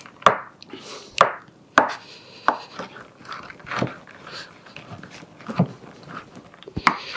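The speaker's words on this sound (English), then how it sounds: "So we will chop our dates as best we can." Dates for a Christmas pudding chopped roughly with a knife on a board, about a dozen close, crisp, irregular thunks spaced roughly half a second apart.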